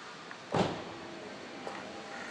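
A door of the EGo Life small electric car shuts with one solid, close thud, followed by a fainter click a second later against quiet background noise.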